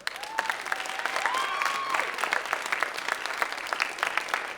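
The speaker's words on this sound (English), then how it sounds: "one more huge round of applause" Sustained applause from a school audience at a writers' week event, dense clapping steady throughout with occasional whistles rising above it.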